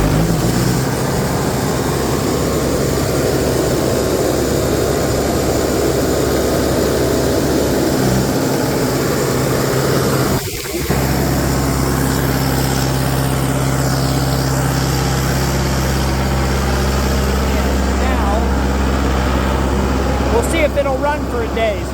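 An engine idling with a steady low drone and a faint propeller-like hum, continuous and fairly loud, with a brief knock partway through; a person talks over it.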